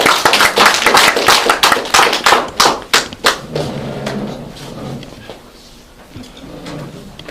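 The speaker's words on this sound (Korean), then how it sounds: "큰 박수로 환영해 주시기 바랍니다" Audience at a district office constitutional lecture welcoming a speaker with applause: a burst of sharp, loud claps that thins into a few scattered ones and fades to a quiet room.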